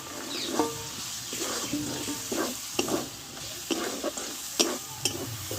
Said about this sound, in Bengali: মটরশুঁটিগুলো দিয়ে আমি দুই থেকে তিন মিনিট মতো ভালোভাবে আমি কষিয়ে নিয়েছি